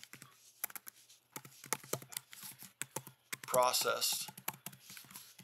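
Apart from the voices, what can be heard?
typing a file name on a computer keyboard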